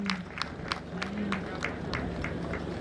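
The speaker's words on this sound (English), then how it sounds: "A round of applause for the regional chief imam." A crowd at an official ceremony gives a short round of applause for the regional chief imam, sparse, rhythmic claps about three per second, fairly faint and distant, with a low murmur of people beneath.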